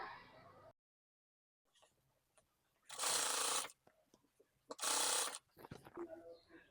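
A sewing machine stitches cord piping in two short loud whirring bursts, with pauses and a few small clicks between them. A voice speaks faintly at the start and end.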